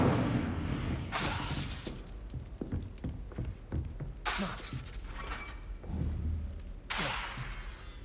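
Incendio fire spell bursts in the Hogwarts Legacy video game, several sharp crackling whooshes of flame breaking out in separate loud bursts, with clicks, thuds and mechanical clatter of combat in between.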